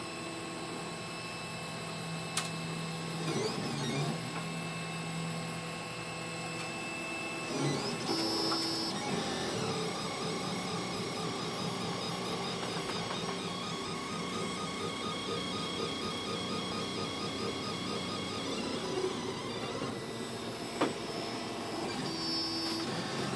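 A Solidoodle 3 3D printer running its first print, whining stepper motors shifting pitch in long tonal runs over a constant fan hum, close and steady with occasional clicks.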